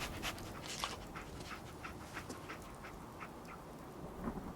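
The dog companion in the video game Fallout 4 sniffs and pants in quick, repeated bursts close up, over a quiet background of rain and distant thunder.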